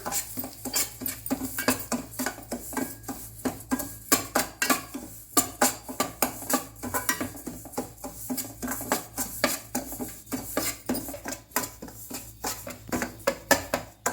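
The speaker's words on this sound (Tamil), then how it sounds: "ஆயில் காஞ்சிச்சு பாருங்கள் இப்போ நாம் சம்பார் ரவையை சேர்த்துடலாம்" Samba semolina roasting in oil in a kadai, stirred with a metal spoon that scrapes and clinks against the pan in a busy, repeated rhythm, close and moderately loud with no talk.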